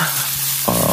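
Onions and other ingredients sizzle in a pan, giving a brief, close frying hiss that swells as more food hits the hot surface.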